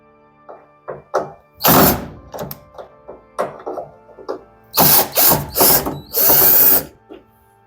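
Bursts of a cordless power driver whirring and ratcheting as screws come out of the top cover of an LG condenser dryer, several short runs with clicks and taps between them, close up.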